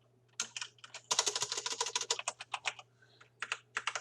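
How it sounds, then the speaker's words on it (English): Fast typing on a computer keyboard while entering a variable name in the Unity game engine, with dense bursts of key clicks, short pauses between them, and a steady low hum beneath, close and clear with no talking. "So I'm going to type the variable name as ground spawner itself."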